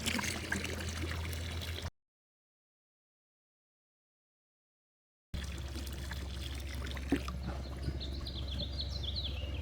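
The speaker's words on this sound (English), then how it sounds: "you just slowly start pouring it in where the jets are" Chlorine poured from a jug into a pool near the jets, a steady close trickle and splash, broken by a few seconds of silence, with birds chirping in the background.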